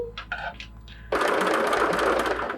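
A sewing machine fitted with an open toe foot stitches a book cover: a few short handling clicks and knocks come first, then the motor starts and runs in a steady, close, fairly loud whir to the end.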